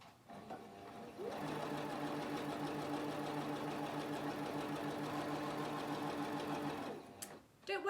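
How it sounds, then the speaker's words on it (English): A sewing machine runs a straight line of stitching down folded fabric, a steady mechanical whirr lasting several seconds, starting and stopping with short clicks. "put my fabric under my sewing machine, following that folded crease that I've made with my iron all the way down the centre, and I'm just going to sew a straight line"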